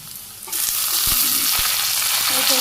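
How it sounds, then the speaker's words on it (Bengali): Malabar spinach with stalks frying in a pan with potatoes and onion, a steady loud sizzle with a couple of sharp stirring knocks, and the hiss rising as the greens go in. "এই ভাজির মধ্যে আমি এখানে পুঁই শাক রাখছি ধুয়ে ধরিয়ে ডাটা সহ হয়েছে"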